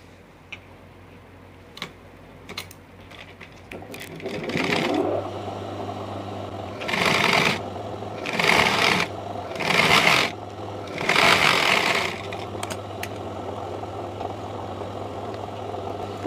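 Domestic sewing machine stitching a long frock lining runs in several short whirring bursts of a few seconds each, separated by brief pauses, with a low steady hum and small ticks between.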